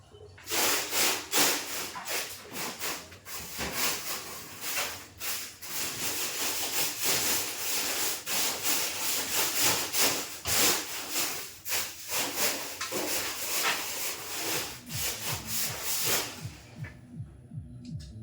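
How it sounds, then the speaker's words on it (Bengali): Dry leaves mixed with rice chaff being raked and dragged into a pile outdoors in the morning, a steady run of loud, close, rasping scrapes in repeated strokes that go on for about sixteen seconds and then stop, with no talking. "যে পাতা টেনে টেনে এন্দুল দিয়ে এসে জড়ো করছে, এমনকি ওই চিটা, ধানের চিটা সহ।"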